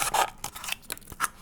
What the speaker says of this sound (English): For that I'm using a my smaller knife because it's easier to cut smaller shapes with.